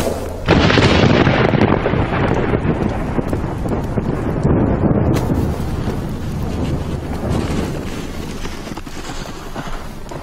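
A heavy explosion bursts in abruptly and rolls into a long, loud, roaring rumble that slowly fades, part of an action sequence in a Chinese martial-arts film with gunfire.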